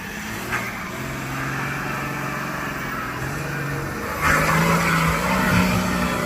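An off-road car climbs a rough trail on the Ruta Das Canteiras route near Salceda de Caselas, Spain, its engine droning steadily with tyres scrabbling, growing louder and rougher toward the end.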